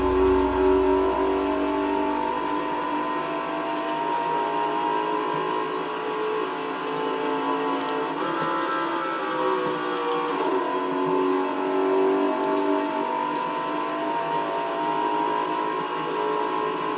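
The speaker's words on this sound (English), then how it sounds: "Quick shifts like that." Simulated car engine in Forza Horizon 5 revving hard with quick gear shifts, a steady loud drone whose pitch climbs and dips around each shift, with no talk over it.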